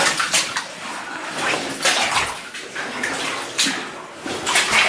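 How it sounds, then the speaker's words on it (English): Steady rushing of running water inside a mine, broadband and continuous with slight surges, fairly close and loud with no voices. "I hear running of water up ahead"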